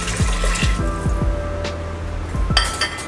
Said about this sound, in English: And lastly, I'm going to add 1/2 cup of water.